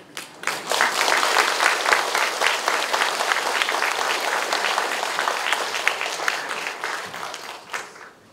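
An audience at a church festival event breaks into loud, sustained applause, dense clapping that swells quickly, holds for several seconds, then tapers off at the end.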